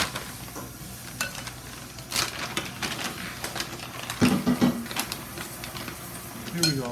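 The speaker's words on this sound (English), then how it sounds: "I'll stir in the meantime" Carrot cake batter being stirred in a bowl, soft scraping strokes repeating over several seconds while people talk nearby.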